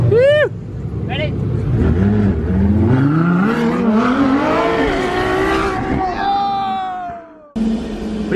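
A LaFerrari and a Nissan GT-R racing, engines revving loudly and climbing through the gears in rising, overlapping whines, close and prominent, with voices shouting over them.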